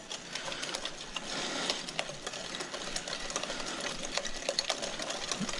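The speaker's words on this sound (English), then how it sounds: "we're just going to go ahead and mix it up until it's frothy" A whisk or mixer beats sugar, flour and eggs for lemon bars until frothy, giving a quiet, rapid, steady clicking and scraping against the bowl.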